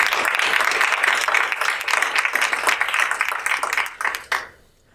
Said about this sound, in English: please let's give him a big round of applause.